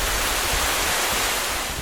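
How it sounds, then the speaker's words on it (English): Heavy rain pouring down at a Minnesota campsite during a sudden deluge, a dense, steady roar of broadband hiss with no break, close and loud throughout. "It is pouring out."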